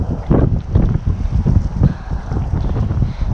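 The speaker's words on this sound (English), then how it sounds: "Strong wind up there. It's pretty exposed at the top of here actually." Strong wind buffets the microphone on an exposed hilltop, a loud, low, rumbling gusty roar that continues without a break for a few seconds.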